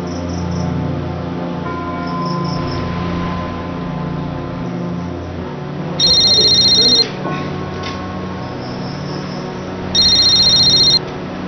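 An outgoing phone call rings back twice, each ring a loud electronic burst of about a second separated by a few seconds, over faint background music in a Bangla film scene.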